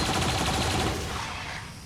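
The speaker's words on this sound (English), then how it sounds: "Once again, we'll have our turret go first." Rapid automatic turret fire from XCOM 2: War of the Chosen, a dense burst of gunfire that stays loud and steady, then eases slightly toward the end, with no voices.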